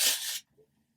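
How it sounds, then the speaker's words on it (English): Fake tan spray hisses onto skin in a single short, close burst under half a second long, followed by near silence. "So I'm just going to spray it on."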